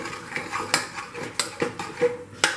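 A spoon scraping and clanking against a metal pressure cooker while chopped tomato is stirred in, giving a series of sharp, irregular metallic knocks up close.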